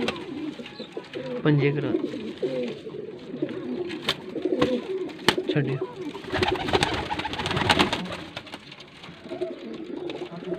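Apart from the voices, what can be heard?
pigeons cooing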